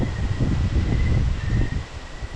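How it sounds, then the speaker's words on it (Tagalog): Strong wind buffets the microphone at a hilltop campsite in Paete, Laguna, a loud, steady low rumble that gusts slightly throughout with no talk. "sobrang lakas ng hangin"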